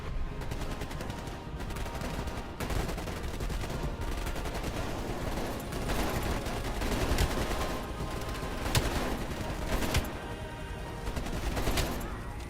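Sustained automatic gunfire in Call of Duty: Black Ops Cold War, with rapid overlapping bursts of rifle and machine-gun fire and a few sharper shots standing out, loud and continuous through the whole stretch.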